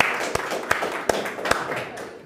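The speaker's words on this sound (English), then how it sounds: "I'm going to clap that" A person claps four times in sharp, evenly spaced single claps at a slow steady rhythm, close and fairly loud over a faint room background.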